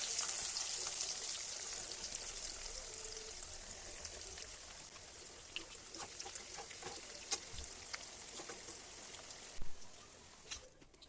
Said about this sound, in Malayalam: അതിനൂടെ ഒന്ന് പെട്ടെന്ന് തന്നെ വറുത്തെടുക്കാം.